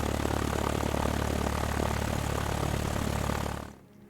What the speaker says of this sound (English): The only sound was the plane's engine.